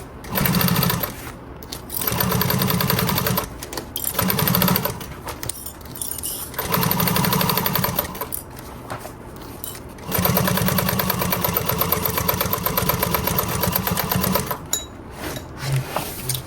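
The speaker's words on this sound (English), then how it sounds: "So now we are going to sew this across that edge that we just clipped together." A sewing machine stitches across the clipped edge of a pool tote bag in several loud, close bursts separated by short pauses, with a steady background hum throughout.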